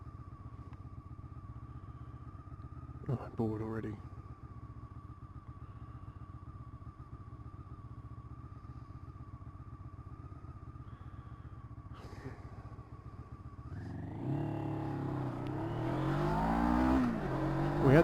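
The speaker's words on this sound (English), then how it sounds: "Revs are building." Honda CB500 motorcycle engine droning steadily while riding, then revs climbing sharply and loudly near the end, with a short spoken remark early on.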